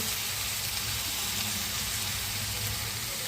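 Vegetables frying in a pan with ginger, cumin and chili pastes, plus salt and turmeric, give a steady, even sizzle that stays close and loud throughout with no pauses.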